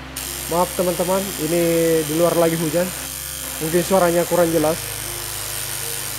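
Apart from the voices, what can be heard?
mains-powered electric hair clipper running with a rough, loud sound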